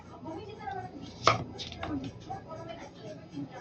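Onion being finely chopped on a board for Filipino milkfish kinilaw, with one sharp knife strike standing out among softer, scattered cuts at close range.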